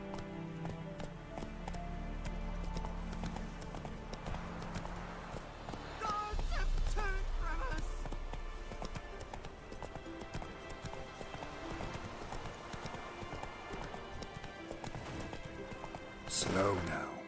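Roach the horse galloping in The Witcher 3, a steady rapid drum of hooves under in-game sound, with a voice speaking and a brief whinny near the end.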